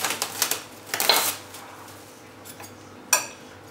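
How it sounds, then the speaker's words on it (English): Bread pudding mixture stirred in a bowl, heard as scattered close clinks and scrapes of a utensil against the dish, bunched at the start and again near the end with quieter gaps between. "stir it up just a little bit more."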